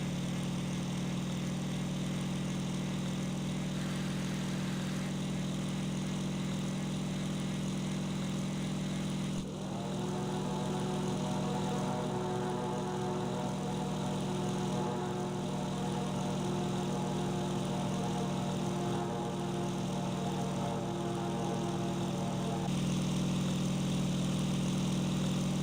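Propeller aircraft engine in the flight game IL-2 Sturmovik 1946, a steady loud droning hum with strong low tonal harmonics, shifting pitch and intensity partway through as the throttle changes, with no voices.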